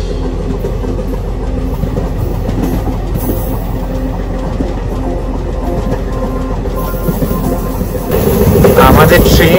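A passenger train runs past the Munroe Islands in Kerala on the Kottayam to Trivandrum route, heard from on board as a loud steady rumble with rhythmic clatter that swells louder near the end.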